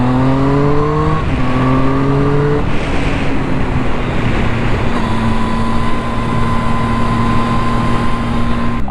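A Triumph Speed Triple motorcycle's three-cylinder engine and intake rev up in quick rising sweeps, then settle into a steady, loud, close droning hum that holds for several seconds.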